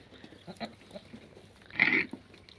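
Goats in the Medina desert call out, a few short bleats scattered over quiet ground, with one louder, longer bleat near the end standing out close by.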